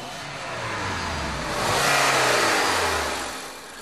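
A 2011 Volvo's 203-horsepower four-cylinder turbo engine revs up under acceleration, its steady roar swelling midway and then easing, close and loud with no voices.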